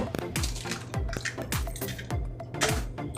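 Eggs are cracked against a bowl for box-cake batter, making a run of sharp clinking taps about every half second, close and fairly loud, with shells and ceramic knocking.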